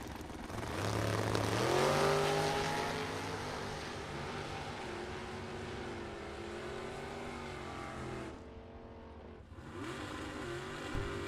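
Drag racing cars launch down the strip at a Super Pro and sportsman bracket event, loud engines revving and screaming as they pull away, with rising pitch and a steady roar fading then returning near the end.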